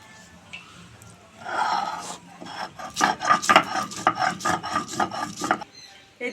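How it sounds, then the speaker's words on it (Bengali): Coriander seeds, cumin and black peppercorns are ground into a paste by hand, making a series of rhythmic rasping, rubbing strokes up close that start softly and build into quicker repeated scrapes. "1 চামচ ধনে আর 1 চামচ জিরে আর 6 থেকে 7টা গোলমরিচ এবার বেটে নেব।"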